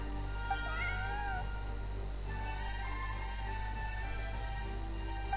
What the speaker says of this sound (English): Yeah, that's right. Good kitty.